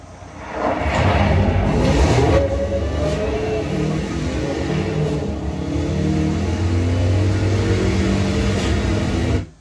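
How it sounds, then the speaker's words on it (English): A supercharged Dodge Hellcat pulls away hard on dirt, its engine roaring loud and close for nearly ten seconds with rough, spitting crackles under a heavy rumble. "something about a supercharged Hellcat, it has a sound to it that nothing else does. It kind of spits."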